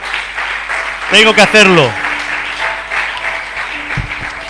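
A church congregation applauds during a sermon, broad clapping running throughout, with a loud voice calling out over it near the start.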